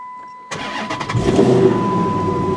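A 2011 Dodge Challenger SRT8 cranks and fires after silence, its engine catching with a loud burst, then settling into a rough idle with a thin steady whine from the power steering.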